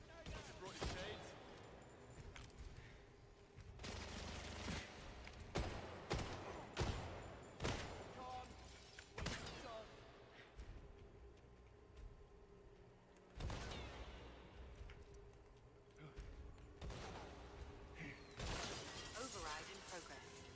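Laser turrets in the 007 First Light game fire in repeated loud crackling bursts, with sharp impacts and shattering debris in irregular clusters over a low background rumble.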